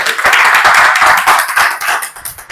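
Students in a Sunday room reading session clap for a classmate, producing loud, close, uneven bursts of handclaps that thin out and grow more scattered toward the end.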